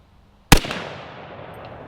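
A single loud rifle shot fired at a target on an outdoor range at 50 yards: one sharp close crack followed by a rolling, fading echo, with no voices.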